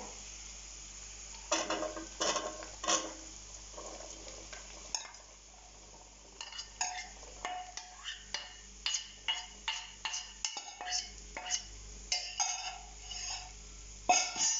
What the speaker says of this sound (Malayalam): ഇതൊക്കെ നന്നായിട്ടൊന്ന് മൂത്ത് വരുമ്പോൾ നമുക്കിനി ഇതിലേക്ക് അരിഞ്ഞു വെച്ച ബീറ്റ്റൂട്ട് ഇടാവേ